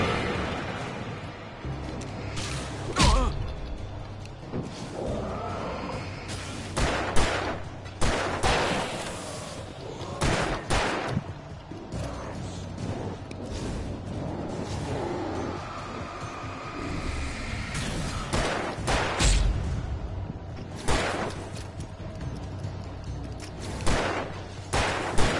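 Rapid bursts of gunfire in the PS5 game Alan Wake Remastered ring out in clusters across a noisy, dense game soundscape, sharp cracks repeating loudly over a steady rumbling background with no talk.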